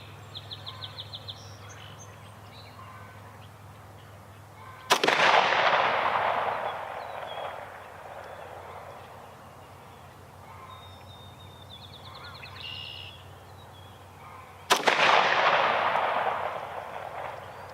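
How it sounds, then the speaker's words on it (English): Two sharp, loud shots from a Smith & Wesson Tactical 45 pistol fired outdoors, about ten seconds apart, each with a long ringing decay over quiet background with faint bird calls. "Let's try a few more shots."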